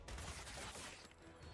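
Gunfire from the video game Gears Tactics, a dense burst of rapid shots with a heavy low thump at the start, fading into a quieter rumble.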